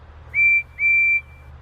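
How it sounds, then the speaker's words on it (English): Percy's train whistle from Thomas & Friends sounds twice, a short clear toot followed by a longer one, loud and clean over a low background hum. "No, that was a whistle. Percy's whistle."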